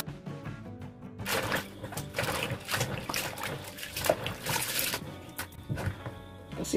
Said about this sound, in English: Rinse it until there's no soap.